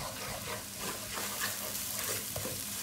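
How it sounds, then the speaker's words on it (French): Beaten eggs scrambling in a hot pan for shrimp fried rice, stirred continuously: a steady, close sizzle with soft scraping and no talk. "je mélange que les œufs"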